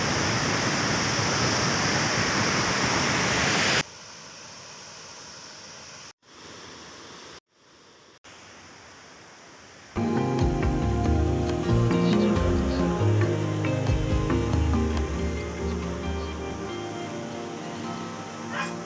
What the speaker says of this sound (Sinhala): මාර ලස්සනයි මේ තියෙන ඇල්ල